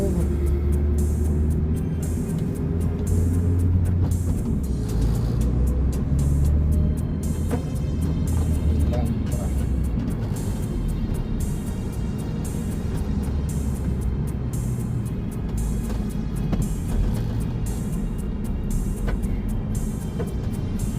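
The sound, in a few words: road traffic, cars and buses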